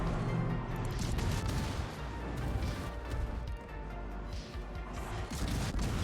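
Incoming naval shell fire in World of Warships rumbles and crashes around the player's ship, a dense barrage of booms and impacts rolling continuously over a low, heavy background.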